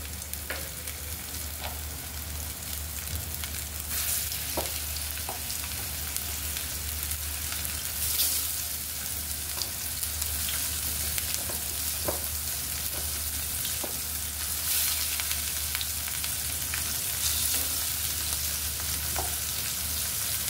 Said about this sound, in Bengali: তেলটা গরম হয়ে গিয়েছে, আমি এবার মাছগুলো দিয়ে দিব।